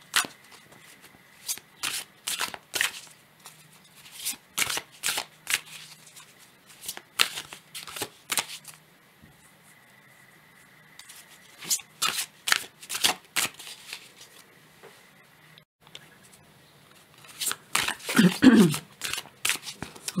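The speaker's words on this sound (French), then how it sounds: "je prends d'autres cartes" Tarot cards being shuffled in repeated bursts of crisp riffling and flicking, close and fairly loud, separated by short quiet gaps, with a heavier rustle near the end and no talking.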